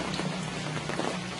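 Steady rain pours down on an outdoor cattle lot where ten bulls are kept for Qurbani, a dense, continuous patter of drops striking surfaces, loud and close throughout with no voices.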